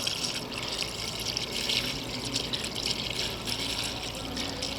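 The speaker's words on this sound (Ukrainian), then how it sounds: "І заливаю солярку." Diesel fuel pours into a car's coolant reservoir, a continuous faint liquid splashing and trickling close by, with no talk.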